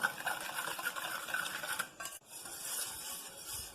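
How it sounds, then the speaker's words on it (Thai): A utensil scrapes and clinks around a bowl mixing sugar, salt and batter for old-style Thai cup dessert, quick repeated strokes, close and fairly soft, pausing briefly before the stirring resumes. "คนส่วนผสมให้เข้ากัน"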